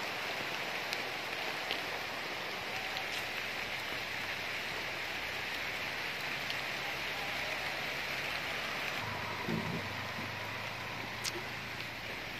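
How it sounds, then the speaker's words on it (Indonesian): Steady rain falls outdoors during a Toman fish harvest at a pond, a dense continuous hiss with scattered drop ticks and faint splashes throughout, with no one speaking over it. "Hari hujan."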